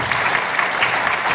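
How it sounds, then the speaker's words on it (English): An audience at a regulatory policy conference plenary applauds a panel, a dense, even wash of clapping from many hands sustained through the whole short stretch. "ask to give them a round of applause for just a fabulous discussion"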